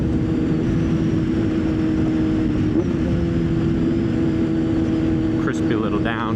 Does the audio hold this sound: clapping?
no